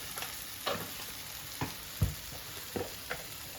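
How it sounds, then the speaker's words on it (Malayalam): Soft sizzling of tomato and curry leaves frying in a pan, with several separate stirring scrapes and clacks at uneven intervals, fairly quiet and without speech. "ഒരു തക്കാളി, അത് ഇച്ചിരി കറിവേപ്പിലയും കൂടെ നമുക്ക് അതുകൂടെ ഒന്ന് വറുക്കാം"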